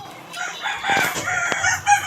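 A shamo crossbreed chicken clucks and calls close by, with a short crowing burst near the end.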